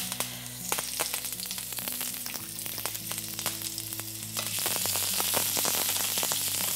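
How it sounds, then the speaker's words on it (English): Curry leaves and mustard seeds frying in a hot pan, a steady close sizzle with frequent sharp pops and crackles that grows louder and denser partway through. "So I'm sort of frying curry leaves and mustard seeds."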